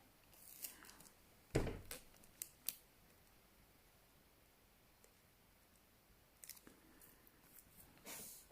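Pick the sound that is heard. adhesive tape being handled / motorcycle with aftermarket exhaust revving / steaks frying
adhesive tape being handled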